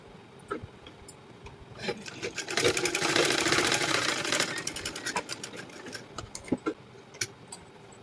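A sewing machine runs a quick burst of rapid stitching on a blouse lining, flanked by scattered clicks and ticks of handling and the machine starting and stopping.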